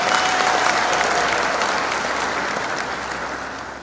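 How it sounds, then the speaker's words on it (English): A large audience gives a sustained round of applause at a football cup launch where trophies are unveiled, loud dense clapping that slowly tapers off. "I think those trophies deserve a bigger round of applause."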